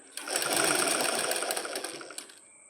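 A sewing machine stitches a small cloth waistband onto a skirt in one steady, close, whirring run of about two seconds, starting abruptly and tapering at the end.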